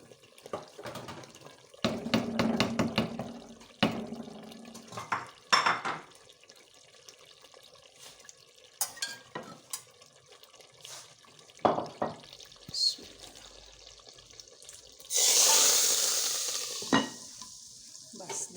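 Ground cumin and fenugreek hit hot oil for a chickpea tempering, giving a sharp hiss that swells near the end, with scattered clinks, stirring, and running-water splashes earlier on.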